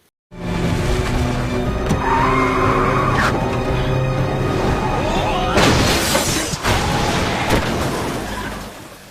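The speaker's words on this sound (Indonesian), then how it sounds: "Lalu Tae-sik mengejarnya dengan mobilnya yang langsung ditabrakan ke arah mobil bos." Movie car chase with roaring engines and screeching tires, then a loud crash of metal and shattering glass as one car rams into another, followed by scraping debris and a rumbling engine fading out.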